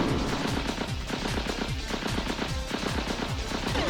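Rapid machine-gun fire in the Gungage video game, a dense, continuous stream of loud rattling shots with no pauses, over game music.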